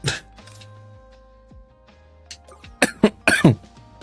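Several harsh coughs and throat-clearing sounds from a chronic cough come in uneven bursts, the last few clustered closely together, with quiet pauses between them.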